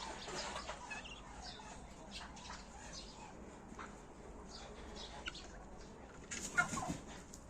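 Backyard turkeys, including a growing red-wattled tom, gobble and cluck at a moderate distance over steady outdoor ambience, with a louder burst of flapping and calls near the end.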